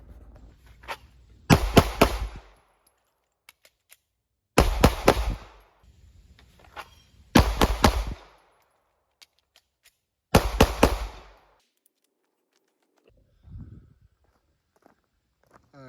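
Handgun shots fired in rapid bursts during an everyday-carry shooting drill, four loud clusters of sharp cracks separated by quiet pauses, followed by a faint thud.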